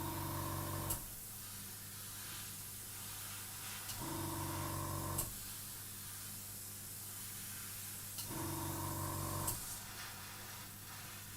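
An airbrush spraying green paint onto a scale model gives three separate bursts of soft, close hiss, each lasting a few seconds, with a constant low hum in between.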